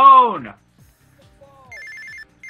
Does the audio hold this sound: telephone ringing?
yes